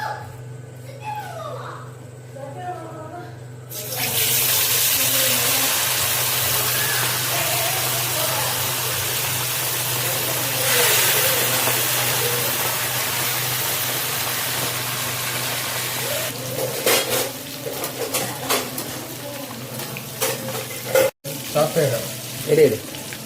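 Masala-coated fish hits hot oil and erupts into a loud, steady sizzle that fills the space for most of the duration, easing somewhat toward the end with a few clinks and handling noises.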